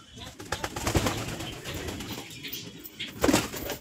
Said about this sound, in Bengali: আর এখানে আমাদের ব্ল্যাক পায়রাটা আছে, মানে হোমারটা।